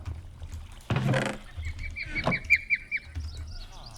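Bird calls in the Minecraft world, a short honking squawk followed by a run of bright chirps over a low ambient hum, moderately loud and heard alone.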